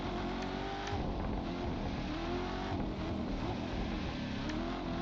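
In a racing video game, a car engine revs hard while the wheels spin and skid and the car slides sideways, a loud continuous roar with shifting pitch and no talking.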